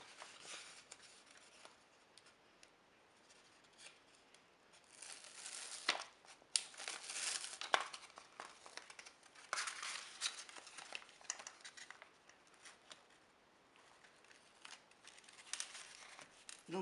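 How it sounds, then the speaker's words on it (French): Scissors cutting cork glued onto a card, close crisp snips and crinkly rustles arriving in irregular bursts, some sharper cuts standing out against near silence. "je vais venir coller mon morceau de liège et découper ensuite autour"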